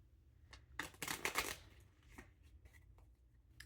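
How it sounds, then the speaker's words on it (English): A deck of cards is riffled and shuffled up close, a dense burst of flapping, snapping card noise followed by a few softer taps and slides, with no talking. "we'll go ahead and shuffle"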